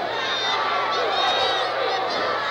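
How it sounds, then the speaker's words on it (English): Wrestling arena crowd at a tag-team match, a steady dense roar of many voices filling the space continuously without a break, loud and sustained throughout. "And listen to the crowd."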